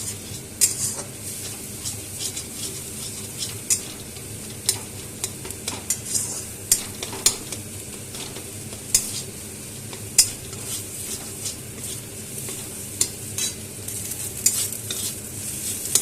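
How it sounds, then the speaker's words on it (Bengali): Beaten eggs scramble in a wok for fried rice, a soft continuous sizzle under frequent sharp scrapes and taps of a spatula stirring them into crumbles. "এটাকে এইভাবে নাড়াচাড়া করে নিতে হবে, না হলে ডিমের অমলেট টাইপের হয়ে যাবে"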